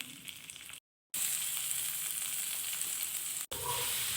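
Onion dropping into hot oil already holding chilli and garlic, a steady bright sizzle and crackle close up, broken by a short silent gap and a brief cut near the end.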